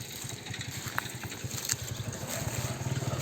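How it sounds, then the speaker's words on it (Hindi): A motorcycle engine drones steadily in the background along a trodden dirt path outdoors, a low pulsing rumble that holds throughout at moderate distance. "पीछे बाइक वगैरह की आवाज़ आ रही है।"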